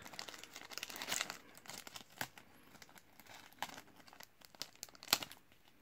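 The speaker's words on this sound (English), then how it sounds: "Now I'm gonna take this out from its plastic bag." Crinkling plastic bag as a keyring is pulled out of it, quiet close-up rustles and crackles in irregular bursts with a few sharper crunches.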